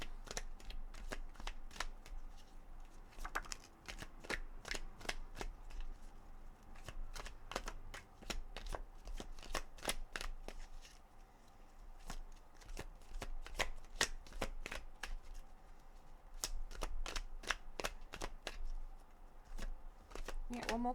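Tarot cards being shuffled in steady riffling bursts, each a crisp papery flutter close to the ear, repeating rhythmically throughout with no voices over them.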